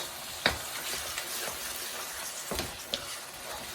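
Minced meat keema frying with green onion in a pan, a continuous close sizzle broken by a few sharp spatula knocks and stirring scrapes, nobody talking.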